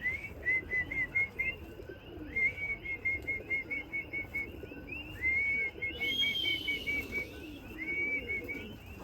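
Pigeons coo softly nearby while a high, repeated whistle calls them in, sounding in short rhythmic bursts over the low cooing.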